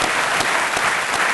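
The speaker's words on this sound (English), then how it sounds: "give him a clap" A crowd claps steadily in dense, loud applause for a retiring man, a continuous burst of many hands with no gaps.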